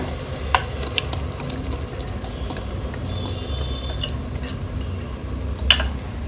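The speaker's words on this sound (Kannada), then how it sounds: "ಈ ಮಸಾಲೆ ಕೂಡ ಚೆನ್ನಾಗಿ ಒಂದು 5 ನಿಮಿಷ ಆದರೂ ಫ್ರೈ ಆಗಬೇಕು" Yogurt masala frying in a pan for mutton keema ball curry, with a steady close sizzle and scattered clinks of a spoon stirring against the pan.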